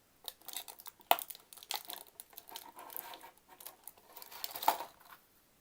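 Tape being cut and peeled off an orange plastic toy sword from a Mega Construx Masters of the Universe figure set, a close run of crinkly crackling and tearing with two sharp snips, no talk.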